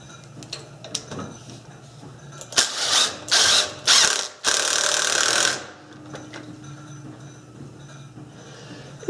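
Screws are driven into a board to fasten it during bowl-making woodwork: a quick series of short whirring drill bursts followed by one longer run, then quiet workshop handling.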